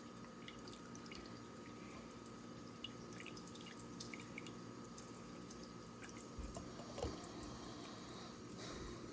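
Water draining slowly through a sample of sand, a faint, steady trickle with scattered small drips throughout, quiet and close.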